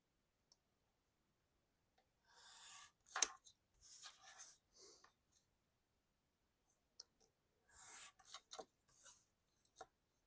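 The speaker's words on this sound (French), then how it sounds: "je vais le découper aussi." Scissors cut through paper in a quiet room, with short bursts of snipping and rasping that come in two clusters separated by a silent pause, close and fairly soft.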